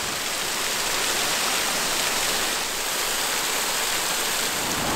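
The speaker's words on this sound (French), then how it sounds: "Ah, il y a une petite cascade." A small waterfall along a clay, sandy trail near a deserted village gives off a steady, close, hissing rush of water that continues unbroken, with no voices.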